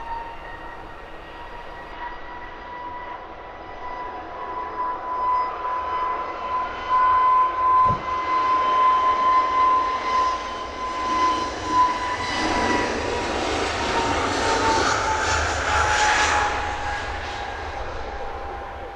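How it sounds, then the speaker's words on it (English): An EasyJet jet bound for Paris takes off from Luton Airport at sunrise, its engine roar building steadily from a distant whine to a loud, broad rush that peaks late and holds, with no talking. "Nice early rotation from the Paris-bound EasyJet."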